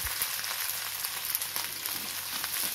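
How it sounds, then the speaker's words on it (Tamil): Turkey berries (sundakkai) sautéing in a pan, giving a steady, fairly soft crackling sizzle nearby with no talking. "சுண்டைக்காய் கொஞ்சம் நல்லா வதங்கட்டும்."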